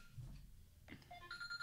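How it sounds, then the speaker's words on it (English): A telephone rings faintly and briefly, with a few thin electronic tones coming in near the end over low background noise. "is my phone ringing?"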